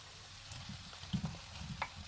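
Tofu pieces go into a pan of well-cooked spices and vegetables for a dry tofu makhani, giving a low, steady sizzle with a few soft stirring knocks and clatters near the middle, close by and moderately quiet.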